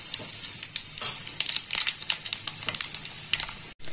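Dry red chilies and black cumin sizzle in hot oil as a tempering, a crackling, spitting fry with scattered sharp pops that stays fairly quiet throughout and has no voices over it.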